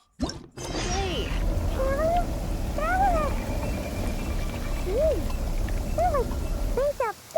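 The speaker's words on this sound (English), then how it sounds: "There's a kitty over there." Repeated short meows from a cat in the video game Genshin Impact, spaced out over a steady background of ambient noise, fairly clear and mid-level in volume.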